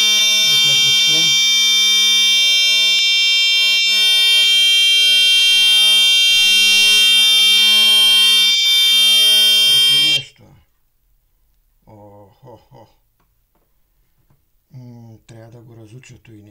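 An electric bicycle horn blares a loud, continuous buzzing alarm tone for about ten seconds before stopping abruptly, followed by a short, quieter buzzing burst and people speaking nearby.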